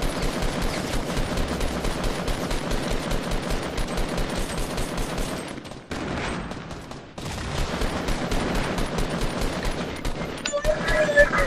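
Rapid automatic gunfire rattles through a Fortnite match in dense, continuous bursts, with one brief pause before the shooting resumes loud and close.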